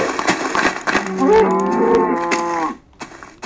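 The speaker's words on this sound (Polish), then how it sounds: "Ty, krowa, sio stąd!" A Minecraft cow moos once, long and drawn out, close and loud, with some clicking and shuffling noises before and after.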